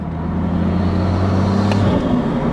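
A BMW M240i fitted with an MST intake pulls hard in fifth gear with a loud, steady droning engine note, then lets off and releases boost with a brief whooshing hiss near the end.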